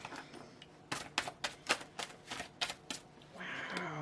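Tarot cards being shuffled and drawn from a deck, a close series of quick riffling flicks in an uneven rhythm followed by a longer sliding shuffle, quiet and heard alone.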